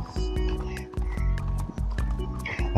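Horse in the Red Dead Online video game, hooves clip-clopping in a steady rapid rhythm with an occasional whinny, loud and close throughout the short stretch with no talk over it.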